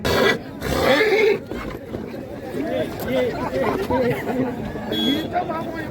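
A mare whinnies amid a lively outdoor crowd at a horse event, with loud chatter and talking throughout.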